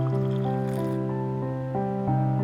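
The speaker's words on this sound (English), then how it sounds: "You don't just water the belly." Liquid dripping and trickling as a belly is watered in an indie video game, a steady synthesized squishy pour with tonal musical notes underneath, continuous and fairly loud with no talk.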